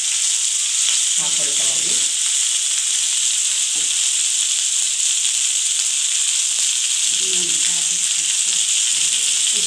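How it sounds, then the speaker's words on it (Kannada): Okra shallow-frying in a little oil for a roast gives a steady, loud sizzle throughout, and a voice speaks briefly in Kannada over it now and then. "ಶ್ಯಾಲೋ ಫ್ರೈ ಅಂತೀವಲ್ಲ ಆ ಥರ, ಜಸ್ಟ್ ರೋಸ್ಟಿಗೋಸ್ಕರ ಪ್ರತಿ ಬೆಂಡೆಕಾಯಿ ಮೇಲೆ ಸ್ವಲ್ಪ ಎಣ್ಣೆನ"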